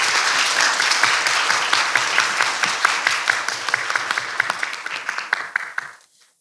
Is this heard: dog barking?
no